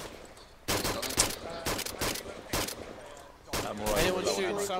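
Rapid gunfire in the military shooter Arma 2, several loud bursts of shots separated by brief pauses, close and sharp, with game ambience between volleys.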